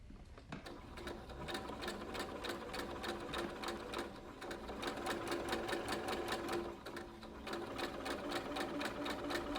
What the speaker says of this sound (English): On the way back, I'll stitch along the inside.